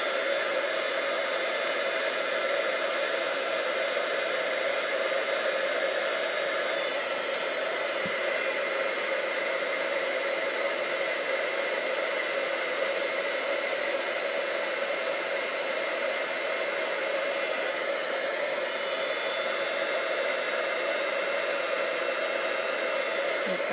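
Handheld heat tool blowing hot air on ribbon for cardmaking, a steady loud whooshing roar that runs unbroken and close throughout.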